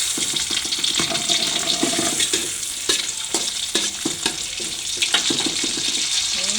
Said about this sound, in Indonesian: Dan ini telur dan tempenya aku goreng sebentar.